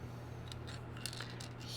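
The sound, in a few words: scissors snipping out model kit parts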